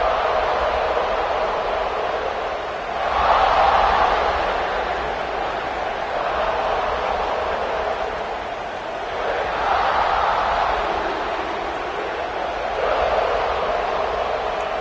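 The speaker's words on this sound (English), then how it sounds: "This crowd ready to make its presence known." Stadium crowd noise from the College Football 26 video game, Ohio State at Alabama, forms a constant broad roar that swells in waves of louder cheering, with commentators talking over it.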